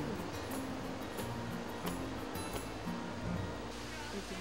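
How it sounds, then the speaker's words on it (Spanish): Steady roaring rush of water falling at the Nauyaca waterfalls, a broad continuous wash heard from nearby, with faint talk in the background. "El sonido del agua al caer llamaba la atención durante el recorrido y nos hacía saber que ya estábamos cerca del lugar."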